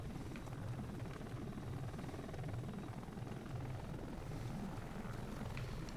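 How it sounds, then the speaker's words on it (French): Continuous rotor thump of a helicopter in the video game Dark Sector, a steady faint drone with a pulsing low throb that holds evenly throughout. "Un hélicoptère là-bas, on va pas aller là-bas."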